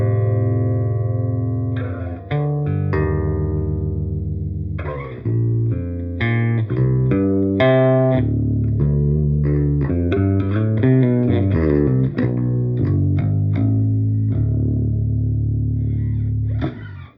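Fuzzy, distorted bass notes from a 1962 Gibson EB-3 played through an Olinthus Earwig Big Muff-style fuzz pedal, loud and sustained, with a run of picked notes and chords filling the passage, no talking.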